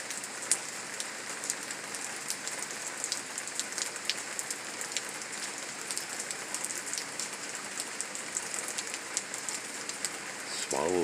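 Steady rain falls on surfaces during a summer storm, a dense continuous patter with sharper drips throughout, filling the whole stretch without talk.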